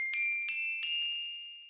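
Three quick, bright, high-pitched metallic strikes on a glockenspiel in its upper range, each ringing with a shimmering sustain that slowly fades, close and alone without speech.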